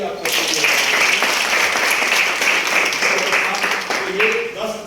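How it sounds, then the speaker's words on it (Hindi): An audience bursts into sustained applause at a motivational talk, dense clapping that holds steady for several seconds at close range and fades slightly toward the end. "एक बार जोरदार ताली आप सबके लिए।"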